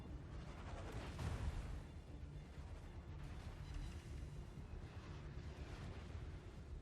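Heavy naval guns of warships firing on the battleship Bismarck in a naval combat game, a dense sustained rumble of cannon blasts with one louder boom, no talk.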